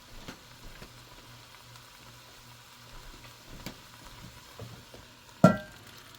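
Onions frying with meat in a pan for a winter chili, a quiet steady sizzle with scattered clicks of stirring and one sharp clatter near the end.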